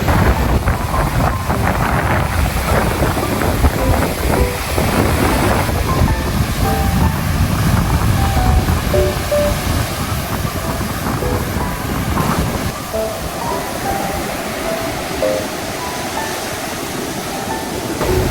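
Loud, continuous roar of heavy, storm-driven surf crashing ashore on a Boracay beach during typhoon conditions, with strong wind buffeting the microphone throughout and no voices.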